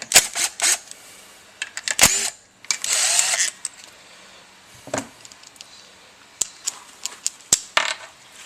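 Two 10mm bolts are worked loose from the clutch cover of a Honda 300 Fourtrax ATV, giving a series of close, sharp metallic clicks and ratchet-like bursts with short gaps between them.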